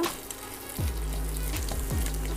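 White cabbage stir-fries in hot oil for street-style veg fried rice, with a quiet sizzle under repeated low scraping and tossing sounds from a pan.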